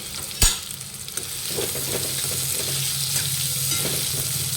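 Cumin seeds and three large, finely chopped onions frying in a pan, with a steady sizzle, one sharp clack near the start and soft scraping stirs throughout; no voices.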